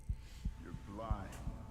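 Heartbeat in The Thaumaturge, a slow regular thump repeating about four times, low and muffled, with a faint hum and some vocal murmur over it.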